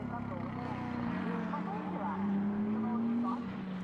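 An Audi race car driven by Jake Parsons during qualifying at Fuji for the Japan Cup, its engine a steady droning tone that rises in pitch as it accelerates, running continuously beneath a commentator's voice.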